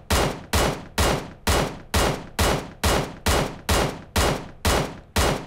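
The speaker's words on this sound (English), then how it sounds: "We'll go ahead and fire another round." QBU88 sniper rifle in PUBG Mobile fired with no compensator attached: twelve loud, evenly spaced shots in quick, steady succession, each a sharp blast with a short decaying tail, close and alone.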